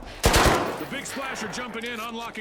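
Gunfire in the video game The Finals starts with a loud, close burst of rapid shots, then fades as a voice talks over the receding sound.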